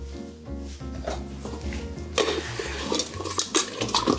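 A lidded container holding chicken wings in buffalo sauce is shaken and spun in a kitchen, giving a continuous close sloshing and plastic rattling that grows busier and louder halfway through, with no voices.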